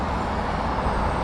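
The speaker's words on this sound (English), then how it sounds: "I'm at a stoplight here, and there's lots of cars going by." Cars and other traffic roll past on a busy road beside a stoplight, a dense, continuous roadway rumble and tire hiss heard close and loud throughout.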